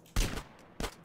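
Gunfire in GTA San Andreas Definitive Edition: two short loud shots about half a second apart, each a sharp broadband crack with a brief tail, then a third onset at the very end.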